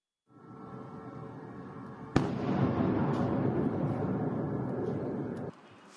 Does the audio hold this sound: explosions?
yes